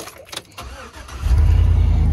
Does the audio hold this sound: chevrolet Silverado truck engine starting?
yes